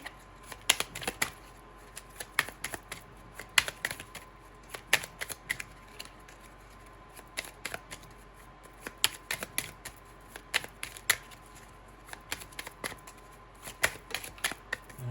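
Small paper cards handled and shuffled close by, giving quick irregular flicks and taps in bursts over a quiet room background.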